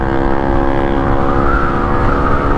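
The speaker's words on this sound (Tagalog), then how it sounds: "Ang ingay ng pipe na yan, bawal yan eh." Honda PCX scooter fitted with a loud aftermarket exhaust pipe, heard on a highway as a loud, steady, close engine drone with strong harmonic tones that rise slightly in pitch, no talk over it.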